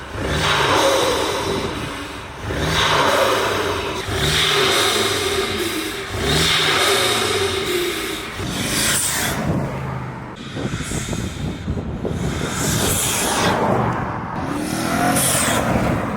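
A BMW M550 with aftermarket intakes revs hard several times in succession: loud, close engine surges rising and falling in quick bursts, then sharper whooshing revs toward the end, with no talking.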